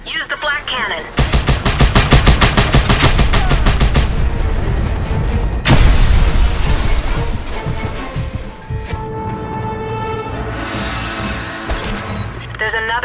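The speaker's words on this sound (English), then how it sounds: "Chopper, use the black cannon." Rapid, loud bursts of helicopter cannon fire in Just Cause 2, a dense stuttering barrage with crashing impacts and a sharp blast midway, followed by trailing rumble and debris.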